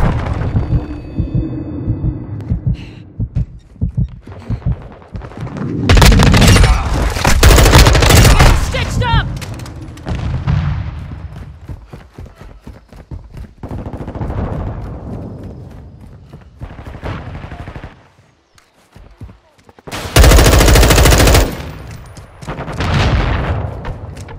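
Call of Duty: Modern Warfare combat with loud bursts of automatic gunfire and single shots, rising and falling in intense clusters across a long stretch with brief quieter gaps.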